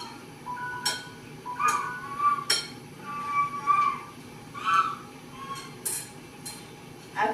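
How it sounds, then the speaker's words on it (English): A spoon scrapes and clinks against a bowl while stirring cinnamon through sliced apples, giving sharp, irregular metallic taps close by over a quiet background. "I'm going to take this spoon and stir it to make sure the cinnamon is all over every apple"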